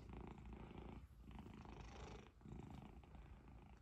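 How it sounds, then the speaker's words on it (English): A cat purrs up close, a continuous rumbling purr that pauses briefly for breath twice. "See that big purr?"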